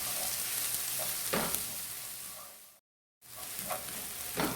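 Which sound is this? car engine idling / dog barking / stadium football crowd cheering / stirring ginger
stirring ginger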